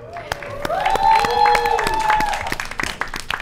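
Studio audience on a quiz show clapping for a university team, with scattered sharp claps under a talking voice and a sung or drawn-out vocal tone.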